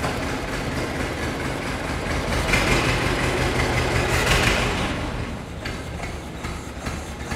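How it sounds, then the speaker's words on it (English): A vintage Packard with a 2.9 litre four-cylinder engine and a wire-operated choke catches and runs, its rough rumble swelling loudly for a few seconds before settling back to a steadier, quieter idle. "Not quite as smooth being just a, oh, there she goes, being a four-cylinder engine"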